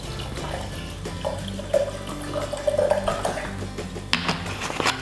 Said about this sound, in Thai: เปิดฝา แล้วก็เทน้ำได้เลย